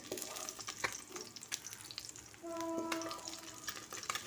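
Pabda fish frying in oil, a close, quiet crackling sizzle with scattered pops and a brief clink of a utensil.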